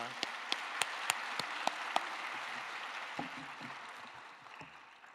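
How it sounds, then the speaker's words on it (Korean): A church congregation at a Wednesday worship service applauds to welcome the preacher, a few sharp loud claps up front over a broad wash of crowd clapping that gradually fades out. "하나님께 영광 돌리면서 큰 박수로 맞이하시겠습니다"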